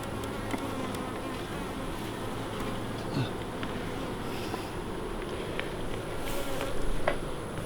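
Honey bees swarm around an opened hive outdoors, their dense buzzing filling the whole stretch as a constant close drone with individual bees passing near.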